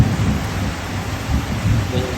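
A dense wash of rainfall hisses without pause while low rumbling rolls beneath it, steady and loud throughout.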